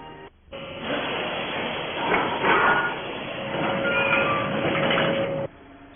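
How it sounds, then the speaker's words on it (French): Electric mine locomotive hauling rail wagons loaded from 18-tonne mine cars along an underground iron-ore mine railway, a steady loud rumble with a sustained squealing whine that runs for about five seconds, then cuts off. "les wagons sont tractés par des locomotives électriques conduites par les Wattmann."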